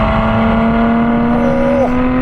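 Lotus Emira engine holding a steady drone, then a brief dip and change in tone near the end as the gear shifts, loud and close inside the cabin with no talking.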